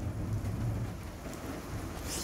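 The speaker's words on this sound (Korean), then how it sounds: "이렇게 비 오면 또비 와서 좋더라고요" Heavy rain pours steadily with a low thunder-like rumble beneath it, recorded in an industrial park area, a dense continuous wash of sound with no talk.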